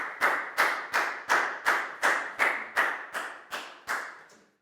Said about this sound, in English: High five and a big round of applause for Pangpon, please, guys.